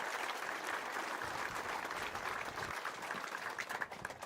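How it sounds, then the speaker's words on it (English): Steady applause from an audience at a Speedweek 2024 gathering, honoring volunteers; dense clapping sustained at a moderate distance for several seconds without a break. "let's just give them a quick round of applause"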